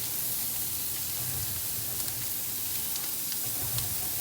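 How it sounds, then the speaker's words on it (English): Ground hamburger and sausage sizzle steadily on a Weber flat-top griddle, a continuous close frying hiss with soft crackle and a few light scraping touches, no talk. "Should not take long for this hamburger and the sausage to brown up"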